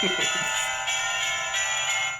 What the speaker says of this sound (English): you got some jingle bells